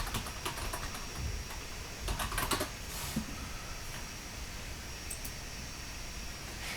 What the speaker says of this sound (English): let me type it in on my other computer here to make sure I give you the right website.